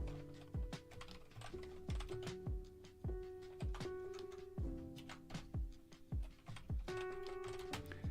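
Steady typing on a computer keyboard, a rapid run of close, crisp key clicks and thunks with a few short pauses, heard alone and fairly near during a science fiction narration session.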